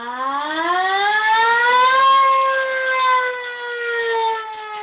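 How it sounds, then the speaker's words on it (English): A police car siren in a radio drama, a single loud wailing tone that rises slowly, holds, then eases down and back up, sounding alone and close. "turn the siren wide open"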